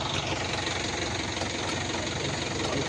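A motorcycle engine idles close by in Indonesia with a loud, steady, rough rumble. It runs evenly throughout with no talking.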